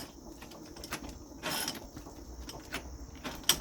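A hand-cranked forge blower turns with a soft, repetitive mechanical whir and clicking, near and moderately quiet, with a small clank near the end.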